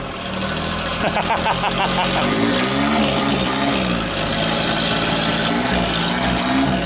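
A diesel engine idles close by, a steady rumble with a rising and falling tone partway through and no clear speech over it.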